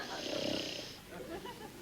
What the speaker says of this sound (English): He snores.